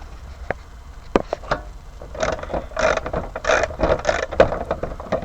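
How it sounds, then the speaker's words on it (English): Ratchet clicks on the bonnet catch fasteners of a Suzuki Wagon R, a few sharp ticks early on, then a denser run of close clicking and mechanical rattling toward the end. "Once this fastener is back in, I can then carry on removing the bottom fasteners."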